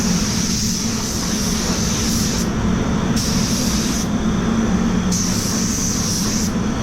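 A spray paint gun with a 1.2 nozzle blows a loud, steady hiss of compressed air up close, with a brief pause and changes in the airflow partway through.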